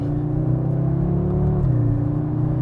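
A 2024 Audi S3 prototype drives along a road, its engine humming steadily with a smooth, continuous whir and low rumble heard from inside the cabin, pitch shifting slightly as speed changes.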